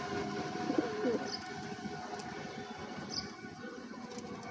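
Pigeons and their chicks at a nest give faint, low cooing under a steady background rumble, with a couple of soft high chirps; distant and quiet, no speech.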